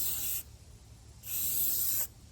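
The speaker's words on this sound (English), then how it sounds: "Start, go all the way to the finish, and then let off the spray" A spray paint can sprays wheel rims in two steady bursts of hiss, the first short and the second longer, close and fairly loud with quiet pauses between and no talking.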